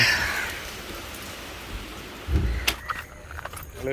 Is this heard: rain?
yes